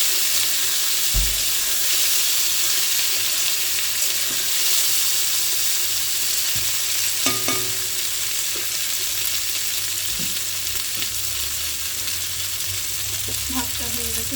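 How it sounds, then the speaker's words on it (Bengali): Taro stolons (kochu lati) frying in a pan, a loud continuous sizzle with occasional knocks and scrapes of stirring, close by and without speech. "এর মধ্যে কচুরলতিগুলো দিয়ে দেবো। একটু নেড়ে নেড়ে হালকা।"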